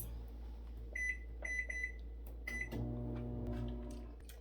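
A microwave oven heating noodles hums low and steadily while a series of short, sharp electronic beeps sound in quick groups, quiet and close with no speech.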